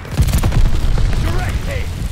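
Gunfire and explosive booms from a Hardpoint match on the Das Haus map in the video game Call of Duty Vanguard with the RA 225, dense rumbling shots mixed under a game announcer's voice throughout.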